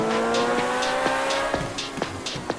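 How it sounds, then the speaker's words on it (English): Tires slip and squeal in a racing video game, a sustained engine tone underneath with repeated sharp squeal bursts as the car slides, loud and close, no talking. "can feel the tires start to slip on you better now too"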